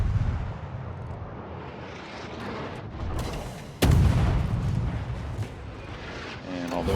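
Naval gunfire in the game World of Warships, a loud, heavy boom cutting through a constant rumble of battle noise, with a faint voice talking underneath.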